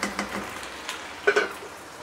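Chicken frying in a pan for biryani gives a short stretch of soft, steady sizzling, with a couple of light metallic clinks of a utensil partway through.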